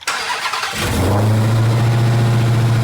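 A supercharged Dodge Hellcat Redeye engine being rebuilt after a wreck cranks briefly, fires up with a loud bark and settles into a deep, rumbling idle heard up close.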